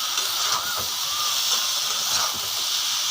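Jackfruit seed and potato curry with dried fish hisses and sizzles in the pan after a little broth goes in, a loud steady frying hiss up close.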